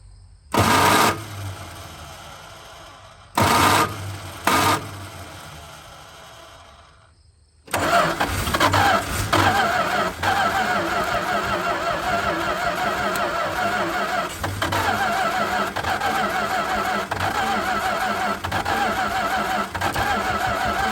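A 1969 Dodge D-100 truck engine on choke cranks in three short bursts, then catches and runs at a rough, loud, steady idle up close.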